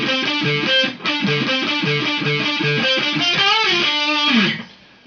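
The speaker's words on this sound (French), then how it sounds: "Si je le fais avec une distorsion contrôlée" Electric guitar played through controlled distortion, a sustained, harmonically rich riff with repeating rhythmic note patterns and a brief break near the start, loud and alone before ringing down at the end.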